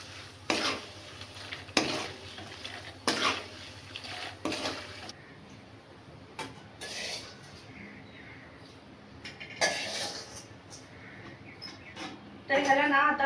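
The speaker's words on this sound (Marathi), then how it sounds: "म्हणजे मसाले पण आपले छान तेलामध्ये भाजले जातील" Spices roasting in oil for chivda, with bursts of stirring and scraping in a pan separated by quieter pauses, close and moderately loud, a faint sizzle underneath and someone speaking at times.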